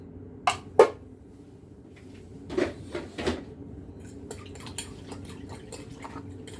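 A spoon stirs a sauce with salt in a pot, making a few sharp clinks and taps against the side, followed by softer, quieter scraping and light knocks.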